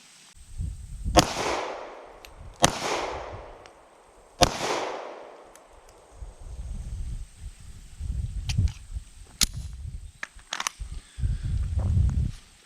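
Three pistol shots fired at target practice on an outdoor range, loud sharp cracks with decaying echoes spaced about two seconds apart, followed by wind rumble and faint clicks.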